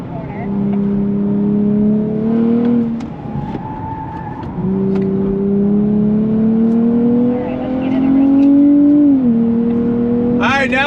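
A 2023 Nissan Z Performance engine accelerating on a track, its rising tone climbing through two long pulls with a brief drop between, loud and close inside the cabin.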